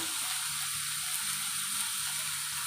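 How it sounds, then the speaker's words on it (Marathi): Raw mango, tomato and spices fry in a pan with sautéed onion for a Marathi dry shrimp chutney, giving a steady, close hiss of sizzling oil that runs unbroken throughout with no talking. "याच्यामध्ये मी कैरी टाकते आणि टोमॅटो मसाले टाकते"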